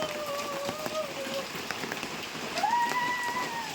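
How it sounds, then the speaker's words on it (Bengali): Steady rain falling continuously with wind gusting, a dense even patter throughout, with faint whistling tones drifting in the background. "কন্টিনিউ বৃষ্টি পড়েই যাচ্ছে, হাওয়াও দিচ্ছে সঙ্গে কীরকম"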